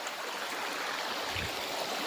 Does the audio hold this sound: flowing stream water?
yes